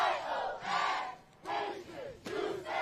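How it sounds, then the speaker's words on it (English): A crowd at a cheer championship chants rhythmically for the home team, loud rising and falling waves of unison shouting in distinct bursts, fairly distant and reverberant. "You can hear the crowd cheering a little bit louder, as you said, for the home team"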